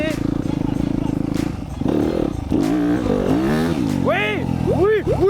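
A motorcycle engine revs hard while the rider practises a wheelie, its loud roar rising and falling in pitch through repeated throttle blips, with people talking over it.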